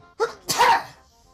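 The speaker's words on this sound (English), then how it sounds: "I got a sneeze coming on." A single sneeze from a man during a Super Mario RPG play session: a short sharp intake followed by a bursting, breathy exhale, close and fairly loud, with no other sound around it.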